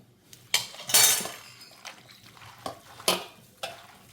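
Chicken marinade with squeezed lemon juice being mixed by hand for biryani, heard as close, irregular wet squelches and soft clinks of a bowl, a few sharper bursts standing out.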